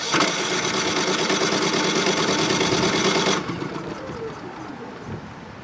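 Champion 3400-watt inverter generator running on propane, electric starter cranking in a loud, fast mechanical whir for about three seconds before cutting off and fading into quieter background noise.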